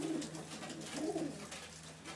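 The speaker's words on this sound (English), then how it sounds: "Beautiful pigeons." Soft, low cooing from pigeons inside a loft, two or three rolling coos against a steady background hum, faint and unaccompanied by talk.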